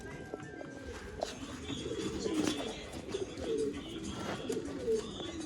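Old line pigeons for sale in Bangalore coo softly and repeatedly, their low, rolling calls mixed with occasional faint chirps against a quiet, steady background.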